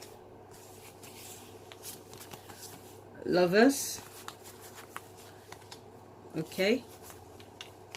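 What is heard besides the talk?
shuffling tarot cards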